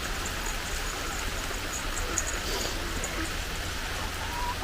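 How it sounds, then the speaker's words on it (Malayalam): Steady light rain hisses softly and evenly, a gentle wash of falling drops with no voices. "ഇപ്പോഴത്തെ മഴ പെയ്യാൻ തുടങ്ങിയിട്ടുണ്ട്."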